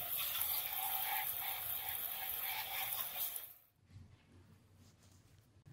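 Tap water runs in a steady broad hiss as a wet felted wool vessel is rinsed under it, loud and close, then cuts off partway through and leaves faint handling and dripping.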